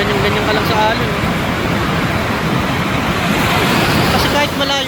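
Ocean surf rolls in a continuous loud wash along a shallow beach, with wind buffeting the microphone and voices talking over the waves.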